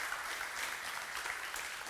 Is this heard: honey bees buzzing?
no